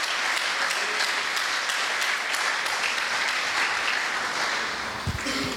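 Sustained applause from a church congregation fills the space, many people clapping together at a constant level, tapering slightly at the very end as a low thump sounds.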